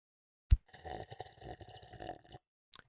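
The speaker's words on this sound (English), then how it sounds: "Here's me drinking some water." A soft tap, then close-up gulping and swallowing of liquid for a couple of seconds, ending with a faint click, quiet and without talking.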